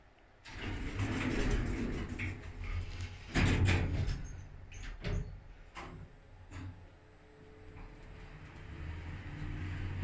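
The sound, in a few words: Schindler elevator running down to ground floor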